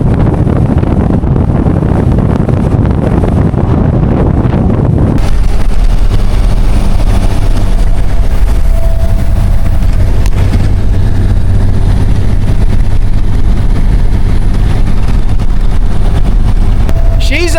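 A 64-year-old Kenworth truck cruising at highway speed, a loud continuous engine drone and road rumble with heavy wind noise, under a voice.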